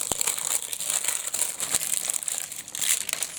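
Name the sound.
unwrapping crinkly packaging of a LOL Surprise doll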